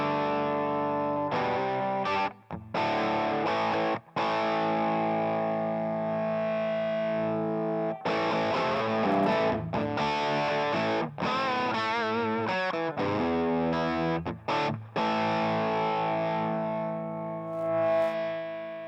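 Electric guitar played live through a Mythos overdrive pedal with the gain being raised, sustained distorted chords and riffs ringing loud and continuous with brief gaps between phrases, no talking.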